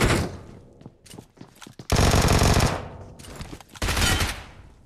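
Bursts of rifle gunfire from campers in PUBG Mobile, several sharp shots followed by two loud sustained volleys, mid-distance and prominent with no talk over them.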